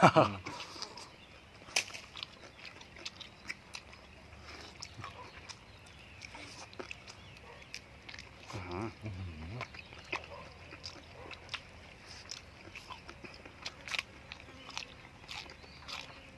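Close biting and chewing of a large, firm-fleshed duck eaten with spicy papaya salad, with wet crunchy mouth sounds repeating over a steady background hum.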